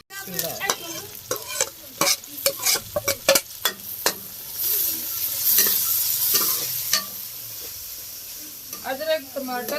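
Ginger, tomato and green chili frying together in a village kitchen, loud close sizzling with a spatula scraping and clacking in irregular bursts, a hissy swell midway and faint talk underneath.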